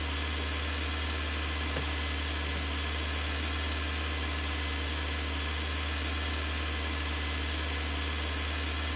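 A tractor engine drones steadily and close on damp grass in a field, a continuous low rumble with a constant hum and no pauses throughout.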